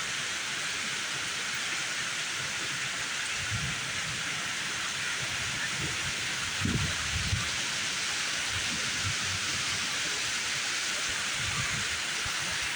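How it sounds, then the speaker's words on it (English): Heavy rain falls during a severe thunderstorm with high winds and flooding roads, a steady dense hiss throughout, with faint low rumbles underneath. "Let's go play out in the rain."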